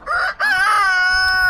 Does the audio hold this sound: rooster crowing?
yes